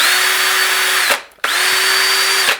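A power drill spins up twice, each run a steady high whine held for about a second with a short drop in between, loud and close with no voices, turning a freehand-made part.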